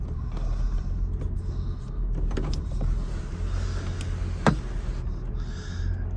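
The sunroof motor of a 1983 VW Quantum Wagon whirs steadily while opening, with a sharp click partway through before the motor stops.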